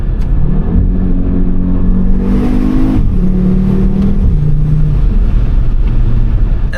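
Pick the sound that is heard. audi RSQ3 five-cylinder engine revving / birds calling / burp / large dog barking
audi RSQ3 five-cylinder engine revving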